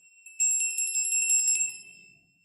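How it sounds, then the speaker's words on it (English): Chimes ringing in a rapid bright cascade of tinkling metallic tones, sustained for about a second and a half before fading out, near and clear with no talking. "can't remember who sent me these chimes."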